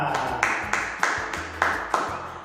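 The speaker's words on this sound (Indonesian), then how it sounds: "Beri tepuk tangan untuk kita semua" A primary school class claps together in rhythmic unison, five sharp sets of claps at a steady beat in a classroom, fairly close and moderately loud.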